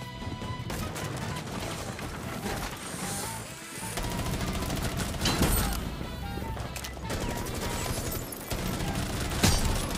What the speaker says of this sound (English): Shoot this now. Shoot many bullets.